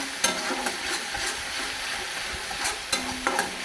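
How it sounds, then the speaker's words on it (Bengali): Spice paste of ground coriander, Kashmiri chili powder and other ground spices frying in a pan for Kashmiri potato curry, a steady close sizzle broken by a few sharp spoon scrapes and stirring knocks. "মশলাটা আমি ভালো করে কষিয়ে নেবো"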